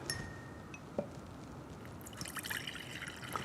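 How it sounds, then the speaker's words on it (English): Water trickles and dribbles into a jar set up for rinsing a makeup brush, with a few light clinks of glass, close and fairly quiet with no one speaking. "We're going to place some water in our jar"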